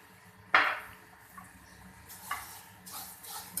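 Vermicelli and sugar being stirred in a pan: a sharp metallic clink, followed by softer scraping and shuffling strokes, close and fairly quiet over a low steady background hum.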